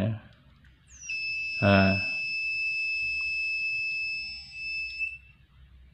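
A homemade gas leak detector sounds its alarm: a shrill, steady electronic buzz holds for about four seconds and then cuts off, with a brief spoken word near its start.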